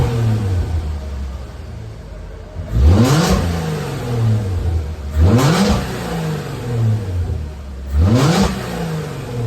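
A B5 Volkswagen Passat V6 fitted with an AEM 340 liter-per-hour fuel pump revs up three times in rising, evenly spaced sweeps, each climbing and falling back to a steady idle, close and fairly loud with no talking.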